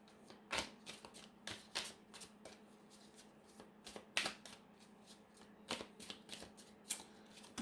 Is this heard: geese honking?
no